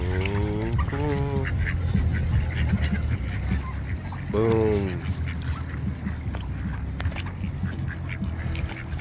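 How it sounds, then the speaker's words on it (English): Ducks quack and honk nearby in several harsh, repeated bursts, with a person briefly talking over the birds and background chatter. "Now these ducks are chilling"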